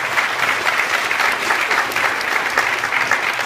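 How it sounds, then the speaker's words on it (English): A lecture-hall audience gives steady, dense applause throughout, loud and close, an even wash of many hands clapping together with no voices over it. "a round of applause for all the hard work."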